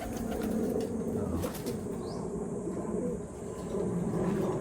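Pigeons during recall training coo softly amid a steady background rumble, with a few brief flutters, low and continuous, no talking.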